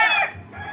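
A large white-feathered rooster on a farm gives a short, close cluck, a brief clear call fading into low rumble.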